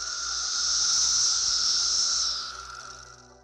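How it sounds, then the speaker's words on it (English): Magicicada cassini periodical cicada producing a steady, loud, sustained buzz that swells and then fades, heard alone with no clear separate clicks. "Magicicada cassini makes clicks followed by a buzz."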